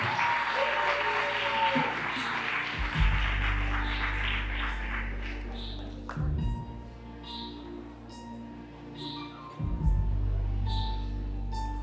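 Applause at a walima wedding reception at Whites Ferry Manor: sustained, steady clapping from a sizeable crowd filling the room, under a low hum with a voice speaking briefly between swells.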